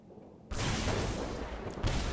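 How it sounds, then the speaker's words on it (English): A Lightning Strike spell's thunder effect in the MTG Arena card game, a sudden loud crackling boom that rumbles on steadily with a second burst near the end, no voices over it. "I'm just going to go straight to face with the Lightning Strike then."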